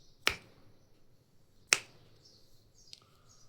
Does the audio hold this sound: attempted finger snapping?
yes